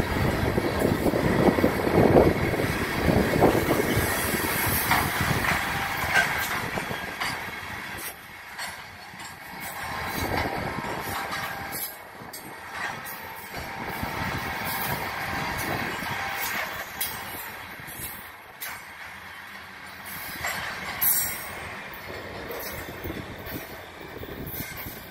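A CN local freight train led by SD75I locomotive 5743, with a Leslie RS3T horn, rolls past in Illinois: steady loud rumble of railcars and wheels, with occasional wheel squeal, and no talk.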